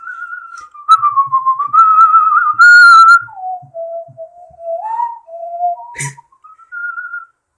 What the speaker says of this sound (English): I like totally whistle myself.